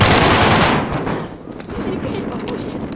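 Dense automatic weapon fire during a hostage rescue at a station in Call of Duty Modern Warfare, a loud rapid burst up front that fades into a softer rattling spray of shots.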